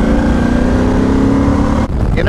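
Suzuki Boulevard C50T motorcycle engine drones loud and close while riding, a steady rumble that shifts briefly near the end.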